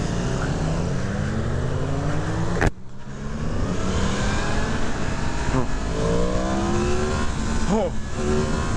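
Yamaha MT-10 SP motorcycle engine revving hard in first gear, rising in pitch in repeated pulls with a brief gear-related drop, loud and close with wind noise throughout.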